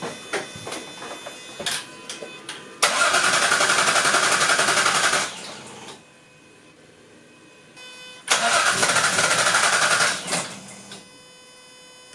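A Jaguar AJ30 V6 fitted with an ME360 ECU in a 1971 Gilbern cranks twice, each starter burst lasting a few seconds and loud and close, with quiet gaps between and short ticking sounds beforehand.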